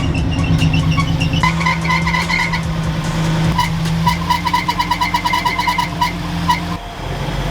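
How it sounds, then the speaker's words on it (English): A running Ford Foxbody car engine with a loud, sustained high-pitched squeal from a slipping drive belt pulsing on and off close by, over a rough idling rumble. "The sides of the belt are like sticky, like melted sticky because they're slipping."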